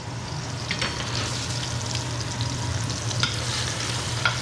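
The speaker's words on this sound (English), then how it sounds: "Right here, I love the sound of this sizzling." Pot roast sizzles steadily in a pan with a continuous crackling fry and occasional stirring scrapes over a low hum, with no talking.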